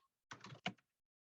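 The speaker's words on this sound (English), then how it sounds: "I need to type in this command" Computer keyboard typing a command: a quick close run of key clacks, a brief gap, then a couple more taps, with silence around them and no talk.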